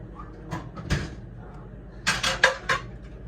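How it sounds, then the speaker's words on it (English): A metal pan clanks and rattles as it is moved about in a home kitchen, a few sharp knocks followed by a cluster of clattering hits, with brief voice in the background. "No, it's just a pan."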